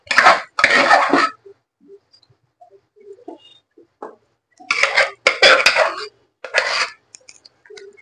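Pav bhaji vegetables being mixed with spices in a pressure cooker, heard as several loud scraping, clattering bursts of a utensil against metal, separated by near-silent pauses with faint small taps.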